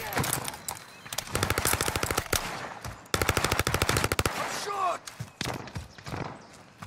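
Video game gunfire in a Warzone-style shootout, two long rapid automatic bursts with evenly spaced loud shots, close and punchy, followed by scattered single shots, with players talking briefly.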